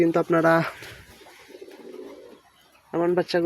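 Pigeons coo softly at close range, including three-day-old pigeon chicks, with a quiet burbling coo in the middle and someone speaking loudly before and after it.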